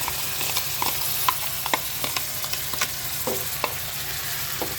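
Chopped onions frying in a pan while a Punjabi green chickpea and soybean curry is prepared: a steady close sizzle with scattered crackles and occasional scrapes of stirring, no talking.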